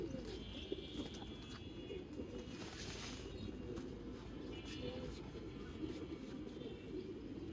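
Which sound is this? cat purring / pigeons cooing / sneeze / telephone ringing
pigeons cooing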